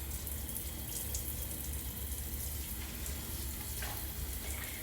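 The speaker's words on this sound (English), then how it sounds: "we're just going to give the bottom a quick little rinse." A shower head sprays water to rinse the base of a shower stall, making a steady hiss and patter that stays even and close throughout, with no voices.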